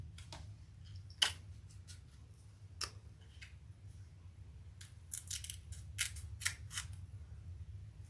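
Scissors snip through leather while a waist pack is being made: a few sharp, short cutting clicks scattered over a quiet low hum, with a small cluster of snips near the end.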